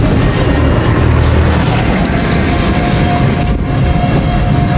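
A train rumbles past up close at MRT Monumento Station, a loud continuous roar of wheels and carriage noise, steady throughout with no voices.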